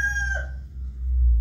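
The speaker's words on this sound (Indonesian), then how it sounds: "Lihat, ayam berkokok" A rooster crows once, a clear harmonic call that fades within about half a second, followed by low rumbling background noise.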